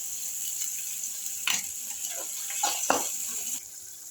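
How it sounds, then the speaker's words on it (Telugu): Chapati noodles frying in a pan give off a steady close sizzle with sharper crackling bursts rising above it now and then; no one speaks. "బాగా ఫ్రై అవ్వాలి."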